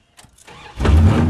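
A Corvair car engine cranks with a few faint starter pulses, then catches and fires into a loud, steady running roar close by.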